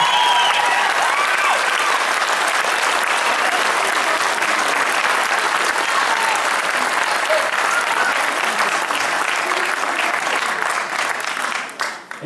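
A crowd at a Houthalen casino concert applauds a singer with sustained, dense clapping that stays strong throughout, then fades out at the very end.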